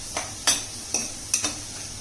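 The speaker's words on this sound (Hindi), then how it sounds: "सब्जियों को हम भून रहे हैं।" Vegetables fry in butter over high heat, with a few distinct stirring scrapes and short sizzling bursts spaced about half a second apart, close and fairly loud.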